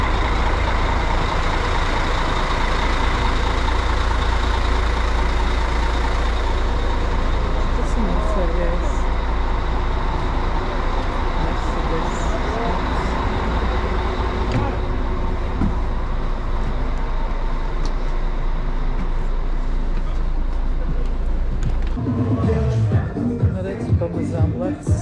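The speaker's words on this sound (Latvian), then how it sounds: "Daudz autobusi" Several buses idle and pull through a petrol station on the road to Egypt, a dense, continuous diesel rumble that thins out near the end.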